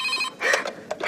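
An old-style telephone bell in a radio drama gives one short ring burst, followed by a couple of faint clicks and knocks in a near, otherwise quiet room.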